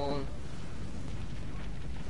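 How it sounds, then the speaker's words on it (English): Explosions in the video game Prototype 2 roll out as a continuous deep rumble, loud and close, with a brief higher tone at the start. "Damn explosions."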